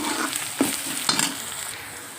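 Turmeric and chili powder being stirred into an egg curry in a pan, soft sizzling under a few scraping spoon strokes, close by with no voices.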